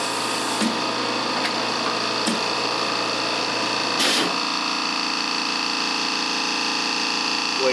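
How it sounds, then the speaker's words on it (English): A compressor runs on a Podtopic 380 automatic press, giving a steady humming drone with a few sharp clicks and knocks from the machine, and the tone shifts lower partway through. "Wait until that compressor turns off."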